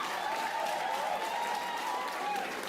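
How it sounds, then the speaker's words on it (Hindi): A comedy show audience claps and cheers in a dense, sustained burst of applause that fills the room, steady from start to finish. "इसके लिए ताली क्यों बढ़ रही है?"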